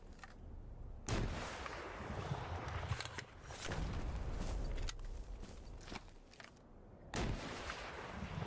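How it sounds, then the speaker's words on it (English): Gunshots in the shooter S.T.A.L.K.E.R. GAMMA fire in several sharp, spaced bursts with broad cracks and echoing tails, a few seconds apart, at moderate loudness and without overlapping talk. "I'm shooting into the anomaly."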